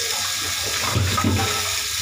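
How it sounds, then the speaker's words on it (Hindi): Water splashes and runs steadily in a home kitchen during cleaning, a close, continuous wash with a brief louder surge midway and no talking. "पानी बहुत इसमें फेंक दिया तनु ने।"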